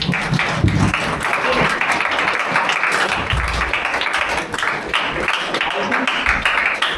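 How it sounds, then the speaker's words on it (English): An audience at a session on the changing career landscape claps for a student. The applause is moderately loud and uneven, and voices and murmuring can be heard through it. "Just clap for him."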